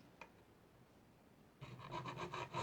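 A hand file rasps along the edge of a guitar fret on an ocean blue Strat, about five quick back-and-forth strokes close up after a quiet pause.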